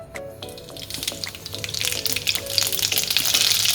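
Mustard seeds hit hot oil in a pan while making Maharashtrian kanda poha, building into a steady, close sizzle and crackle that grows louder over a few seconds.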